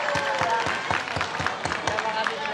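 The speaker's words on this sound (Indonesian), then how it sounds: "Tepuk tangan untuk David" A crowd at a school assembly applauds David, with quick, evenly spaced beats of rhythmic clapping repeating throughout and voices mixed in beneath.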